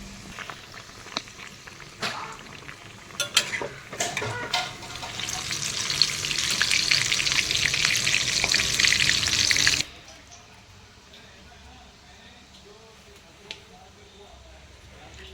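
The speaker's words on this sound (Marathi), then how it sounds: "आता आपण एक एक करून ना वडे तळून घेऊयात" Vadas deep-fry one at a time in hot oil for a spicy kat vada dish, a sizzling hiss rising as pieces drop in, with kitchen clatter and brief taps, then cutting off abruptly to quiet room sound.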